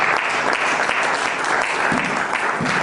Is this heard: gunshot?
no